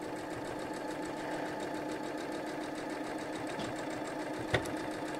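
Sewing machine chain piecing fabric for a table runner, a steady fast mechanical stitching chatter running continuously at close range, with a single sharp click near the end and no talking.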